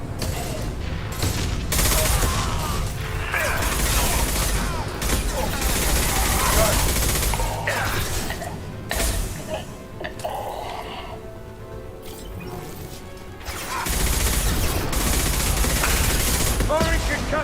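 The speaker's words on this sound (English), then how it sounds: "Firing concussive shot!" Gunfire in Mass Effect 2, loud sustained bursts of rapid weapon fire with a concussive shot blast among them, dropping briefly to a quieter lull before the shooting resumes, with speech mixed in.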